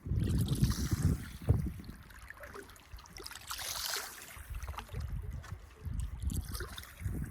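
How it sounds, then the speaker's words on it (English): A canoe or kayak paddled on a river gives soft, irregular splashes and water swirls against a faint outdoor background, with no voices. "So, I was out here paddling today."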